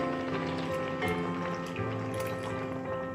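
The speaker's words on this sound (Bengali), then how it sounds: "পরিমাণ মতন গরম জল ঢেলে দিচ্ছি।" Hot water pours steadily into a pot of Bengali vegetable khichuri, a continuous liquid splashing and gurgling that runs for a few seconds over a faint background hum.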